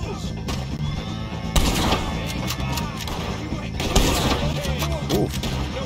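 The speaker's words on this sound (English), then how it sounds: "shoot some of these old Driscolls" Gunshots from the video game Red Dead Redemption crack in sharp bursts over continuous game noise, two louder blasts standing out among scattered rapid shots, with voices talking underneath.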